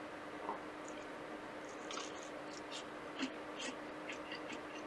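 Close, quiet bites and chewing into a cast iron apple fritter with a crunchy exterior, glazed top and apple chunks; soft crunches and squishy mouth sounds scattered over a low hum.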